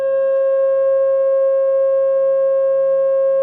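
A steady pure electronic tone at 540 cycles per second, the pitch assigned to a pentagon shape and a harmonic fifth above a 360 tone, holds unbroken and fairly loud for the whole stretch with a faint low hum beneath it.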